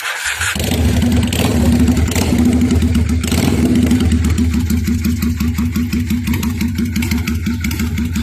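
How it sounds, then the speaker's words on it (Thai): A cold 1991 Honda Steed 600cc motorcycle engine idles right up close after starting, a steady, loud, throbbing low rumble that holds without a break. "ฟังเสียงครับ เครื่องเย็นครับ"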